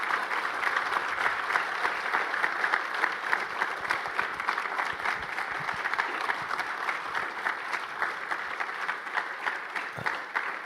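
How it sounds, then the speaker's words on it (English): An audience at an Invest Austria investor event applauds steadily, many hands clapping in a full, even burst that holds at moderate loudness for about ten seconds. "Please give them a great applause."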